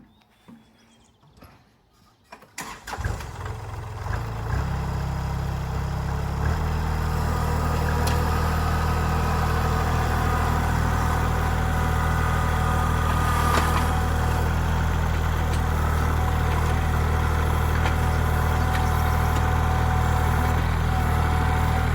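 A small diesel engine of a compact Kubota tractor with a grapple starts up after a moment of quiet, then settles into a loud, steady rumble with strained low droning, close by, as it lifts a heavy oak log.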